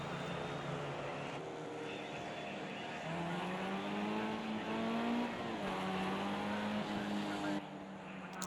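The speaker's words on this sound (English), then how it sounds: "So now the qualifying has now begun. And it's a mad dash coming out of pit lane now." Formula Ford race cars accelerating out of pit lane at the start of qualifying, a steady roar of several engines with rising pitch sweeps as they pass, continuous and fairly loud throughout.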